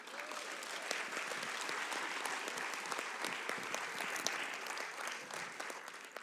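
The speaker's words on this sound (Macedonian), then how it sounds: "аплауз за мажите што се овде" Audience applause at a women's stand-up comedy gala show, a dense, steady wash of many hands clapping throughout, fairly loud and continuous with no talk over it.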